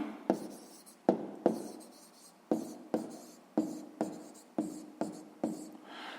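Pen writing an answer in a notebook during a sixth-grade maths exercise, giving a close, distinct series of about a dozen scratchy strokes, each starting with a sharp attack and fading, separated by brief pauses, with no talking.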